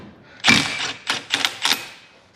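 Socket wrench working loose a brake bolt on a Geo Metro during a pad and rotor job: a loud initial crack followed by three quick bursts of ratcheting clicks, close and dry, with no talking.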